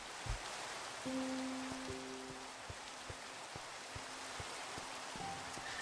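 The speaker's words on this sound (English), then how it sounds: "Rainy day." Steady soft rain in the game Minecraft, an even wash of falling drops heard at low volume, with a few faint tones and ticks over it.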